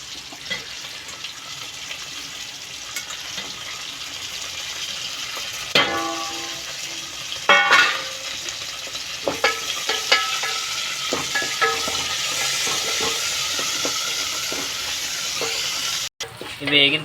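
A tempering of garlic, curry leaves, dried chillies and coriander sizzles steadily in hot oil for a tomato chutney, with intermittent clinks and scrapes of stirring over the continuous frying hiss.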